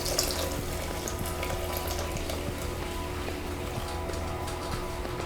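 Tap water runs steadily into a container for a homemade pastrami brine, one quart being filled as a continuous broadband splashing rush with no talk.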